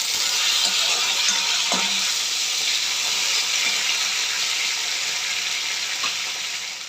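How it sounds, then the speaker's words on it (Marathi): Potato slices tossed and stirred in a hot oiled pan for a spicy Maharashtrian batata kachrya, giving a steady close sizzle with faint scraping and clinks, no talking. "हे बघा आता हा बटाटा ॲड करायचा ह्याच्यामध्ये आणि हे व्यवस्थित असं मिक्स करून घ्यायचं"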